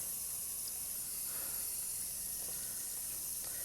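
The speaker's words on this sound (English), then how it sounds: "Now we're gonna pour this out." Film developing chemical pours out into a sink, a steady close hiss of running liquid with faint splashes throughout and no voices.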